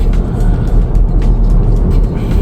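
Steady loud road traffic on the NLEX expressway before dawn, with many trucks, heard from inside a 2023 MG4 Lux electric car as a continuous low rumble of engines and tires with no talk.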